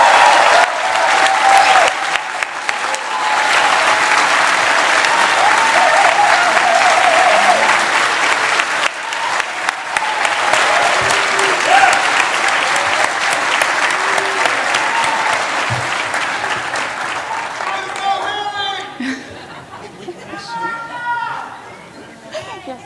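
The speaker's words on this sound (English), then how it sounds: "one last major round of applause for all of these fine people" Loud, sustained applause from a large crowd at a Democratic nominating convention for US Senate, with cheers and chatter mixed in, fading toward the end as voices take over.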